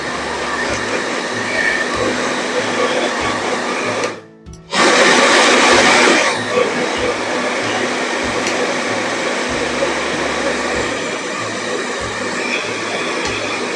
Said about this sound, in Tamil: இந்த ஹேர் ட்ரையர் ஆன் பண்ணி பார்ப்போம்